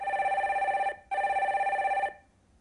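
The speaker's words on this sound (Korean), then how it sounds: "다음 전화 빨리 받아볼게요" An incoming call sets a telephone ringing loudly and close by, with two electronic ring bursts separated by a short pause, heard during a Korean call-in stock market program.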